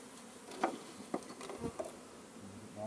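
Bees knocked off a frame or off someone fly about, giving faint buzzing and a few soft taps and bumps in quiet surroundings.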